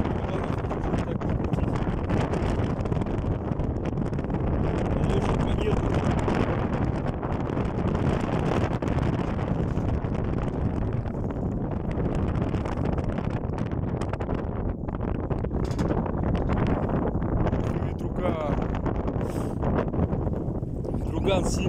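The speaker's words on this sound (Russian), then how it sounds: "Ветрено сильно вообще прям." Strong wind buffets the microphone with a constant roaring rumble throughout, loud and unbroken, with rustling mixed in, at a lookout above Chita.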